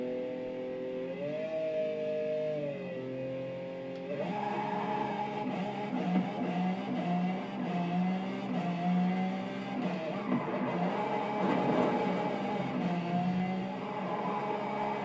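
Car engine in Forza Horizon 5 revving up in stepped rises, then a steady sustained whine with wavering pitch as the car drives, mid-loud and alone without voices.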